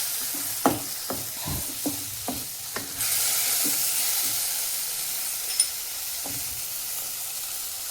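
Tamarind juice poured into a hot pan and stirred while making Dharwad-style girmit: a run of scraping stirs and soft knocks, then a steady loud sizzle and hiss from about halfway, close by with no talk.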